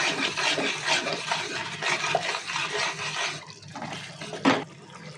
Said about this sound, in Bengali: এর মধ্যে একটু ফুটন্ত গরম জল দিয়ে দেবো পরিমাণ মতো ভালো করে মিশিয়ে নেব মশলাগুলোর সাথে